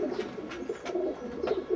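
Pigeons coo in a loft, soft throaty rolling calls repeating in quick pulses, close and continuous with no talking.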